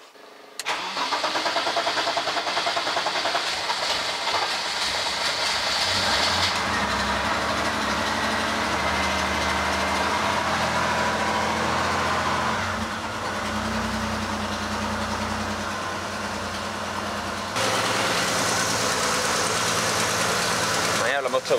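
A car engine idling through a large Simons muffler, a steady deep rumble close by that runs throughout with slight shifts in tone, while people talk over it.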